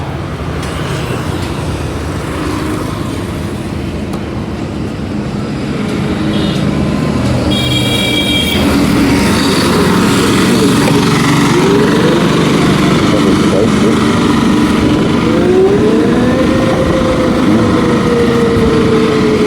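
An Ola S1 Pro Gen 2 electric scooter accelerates hard, giving a loud, steady rushing roar of wind and road noise, with a motor whine that climbs in pitch toward the end. No one speaks.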